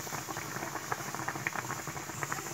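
Water boils beneath eggs being steamed, giving a close, soft bubbling with small irregular pops and patter over a low steady hiss.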